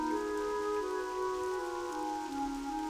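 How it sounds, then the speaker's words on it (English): Steady rain hisses across the dark, foggy lakeside zone of Loch Modan in World of Warcraft Classic, a continuous wash beneath sustained tones of game music. "We're in Loch Modan, and it's rainy, and it's foggy, and it's dark."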